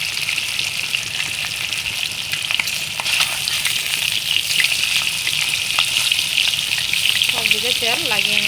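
Fish pieces frying in hot oil for an onion-paste fish curry, giving a steady, dense sizzle throughout, with a few louder pops and crackles near the end.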